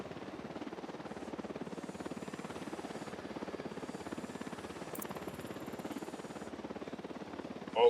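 Patrol helicopter in Tom Clancy's Ghost Recon Wildlands on PS5, a faint, steady rhythmic rotor thump held throughout at a distance with no talk.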